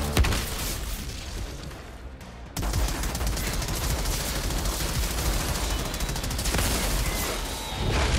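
Shotgun fire in the video game Outriders: loud, dense weapon blasts run almost without a break, layered over constant combat noise. Two short drops in level are the only pauses.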